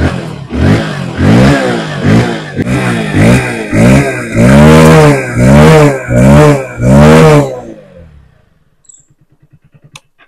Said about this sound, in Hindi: तो अभी का जस्ट आपने इस गाड़ी के एग्जॉस्ट साउंड को सुना